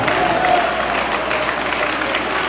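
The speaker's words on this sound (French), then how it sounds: "Acclamez le Seigneur Jésus-Christ" A church congregation applauding at a Sunday service, a steady wash of clapping from a crowd, moderately loud throughout with no voices standing out.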